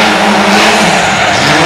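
A Subaru Impreza WRC rally car engine revs hard close by on a racing circuit, a loud, sustained, buzzing roar that holds steady across the short moment with no voices.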